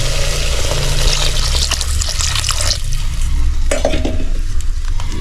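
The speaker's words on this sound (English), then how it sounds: "Now we are going to be putting in some water." Water hits a pan of frying pilao in an outdoor African village kitchen while it is stirred, giving a loud continuous sizzle with splashing and scraping spoon strokes.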